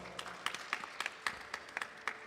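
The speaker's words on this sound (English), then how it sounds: "Please give them a big round of applause." A quiet audience at a Shiva Puran katha gathering gives a round of applause for a couple's 26th wedding anniversary, with scattered, fairly sparse claps in an uneven rhythm heard at a distance.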